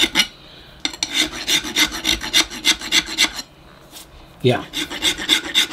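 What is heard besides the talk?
rasp smoothing a drilled hole in a marble bonsai pot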